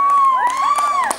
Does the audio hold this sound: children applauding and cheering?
yes